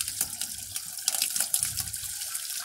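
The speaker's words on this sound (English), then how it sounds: "Now I just gonna fill up the chicken water a little bit." Water runs and splashes into a chicken waterer in a farming video game, a steady tap-like stream with gurgling bursts, alone and fairly close.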